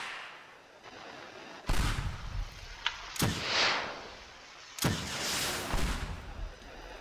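Gunshots from the voxel destruction game Teardown: three loud, sharp blasts spaced about a second and a half apart, each trailing into a rumbling, debris-filled decay, with no talking.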